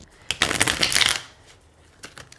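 Forest of Enchantment tarot cards being shuffled by hand, a quick flurry of crisp riffling card flicks lasting about a second, followed by a few lighter taps, close and clear.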